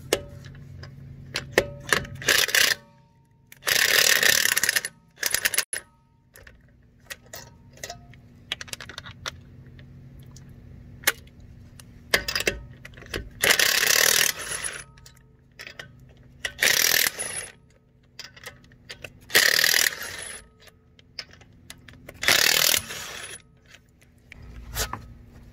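A DeWalt impact gun takes the wheels off a BMW, firing in repeated short loud rattling bursts separated by quieter gaps with light clicks and handling noises.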